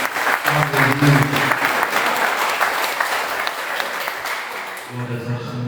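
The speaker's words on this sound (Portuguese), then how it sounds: "E você dá uma salva de palmas para o nosso Jesus." A church congregation applauds for Jesus, a dense, steady roar of many hands clapping close by and filling the room, with a voice speaking over the tail end as the clapping fades.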